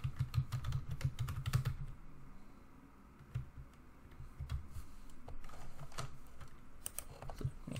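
Typing on a computer keyboard to enter a username and password: close, quiet key clicks in quick bursts, with a short pause in the middle before tapping resumes, no speech.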